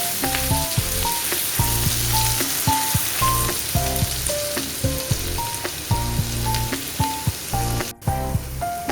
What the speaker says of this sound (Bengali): ভালো করে আদাটা ভাজবো